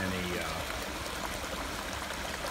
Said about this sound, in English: we've got nothing but clean water flowing around.